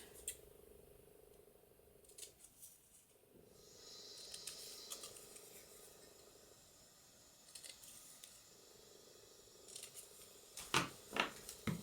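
Scissors snip the corners off a paper label during papercraft tag making. After a long quiet, hissy stretch, a few close, crisp cuts come near the end.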